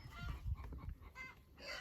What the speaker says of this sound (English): Here we have the chickens in their natural habitat, hunting amongst the jungle of grass for bugs and scraps of food.